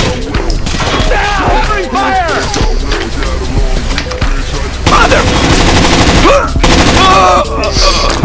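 Rapid automatic gunfire in the video game Rainbow Six Vegas 2, loud sustained bursts with crashing impacts layered under game music and excited voices talking throughout.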